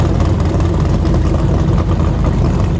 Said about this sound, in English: we're gonna run this nitrous Hellcat Charger